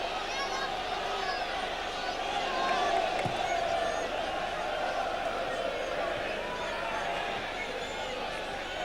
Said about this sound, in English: in the noise that's at the moment going on with the home crowd